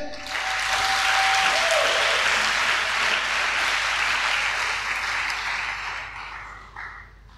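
A church congregation at a Sunday service breaks into loud, sustained applause and cheering that fills the room, then slowly fades near the end.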